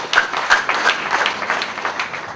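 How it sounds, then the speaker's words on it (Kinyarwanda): Wedding congregation applauding in a church, a dense patter of hand claps with a few sharper nearby claps standing out, steady and moderately loud throughout. "twese dukoma amashyi."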